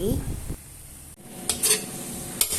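Minced pork with bamboo shoots and curry paste is stir-fried, with a low sizzle under a few close metallic clatters of a spatula against the pan near the middle and end.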